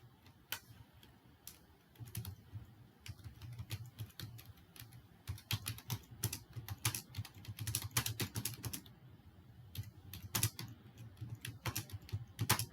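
Steady computer-keyboard typing of a chatbot prompt, irregular quick clicks and keystroke bursts close up, running continuously with brief pauses and no talking.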